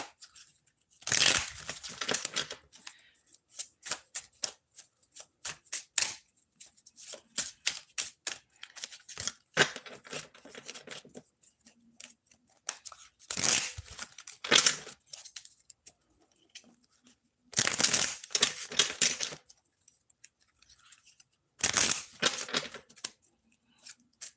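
Tarot cards are shuffled by hand in repeated bursts of crisp, rapid riffling and flicking, separated by short pauses, close and fairly quiet.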